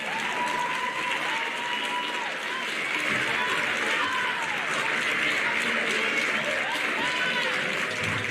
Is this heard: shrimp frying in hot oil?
no